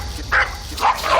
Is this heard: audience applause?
no